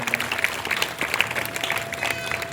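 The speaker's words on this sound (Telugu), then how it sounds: "చప్పట్లు కొడదామా దేవునికి ఒకసారి" A church congregation claps together during a Lent service sermon, a dense burst of many hands applauding steadily for a couple of seconds in a reverberant hall.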